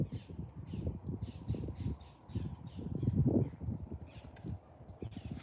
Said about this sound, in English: these birds are pretty active.